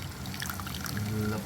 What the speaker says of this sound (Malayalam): കുറച്ച് പുളിവെള്ളം ഒഴിക്കുക.